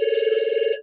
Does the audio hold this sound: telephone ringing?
yes